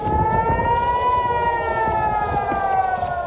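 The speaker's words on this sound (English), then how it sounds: "Incoming rocket sirens can be heard in surrounding areas as the conflict erupts into war." A steady wailing incoming-rocket air raid siren rises and falls slowly, loud and continuous, with a low rumble of background noise beneath it, during missile attacks between Israel and Hamas.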